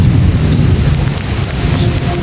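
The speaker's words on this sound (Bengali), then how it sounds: "আমাদের এখানে খুব বৃষ্টি হচ্ছে" Heavy rain pours down outdoors in a loud, steady wash with a deep rumbling undertone like distant thunder, and no one speaks.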